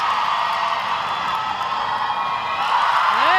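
Sustained crowd roar with whoops and high shouts at a Netball World Youth Cup game, Australia versus Zimbabwe, holding loud and steady throughout and swelling slightly with rising yells at the end.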